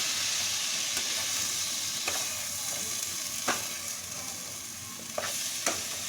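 Spring roll stuffing seasoned with soy sauce sizzles steadily in a hot pan, with a constant frying hiss broken by a few sharp clinks of a spoon stirring against the pan.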